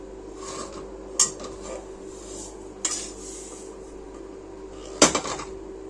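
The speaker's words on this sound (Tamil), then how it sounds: "ஒன்று ஒன்றா எல்லாத்தையும் வறுத்துக்கிடுவோம்" Poppy seeds and spices dry-roasting in a pan give a faint, quiet rustle. Three sharp metal utensil clinks against the pan stand out above it, spread several seconds apart.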